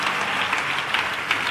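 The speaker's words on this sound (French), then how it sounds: "Quelqu'un acclame le Seigneur." A church congregation applauds in praise during a prayer service, making a brief burst of steady clapping from many hands, fairly close and loud, with no break.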